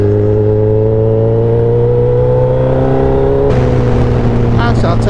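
A motorcycle engine runs steadily close by, its even drone holding level and shifting to a rougher, higher tone partway through without any clear revving bursts.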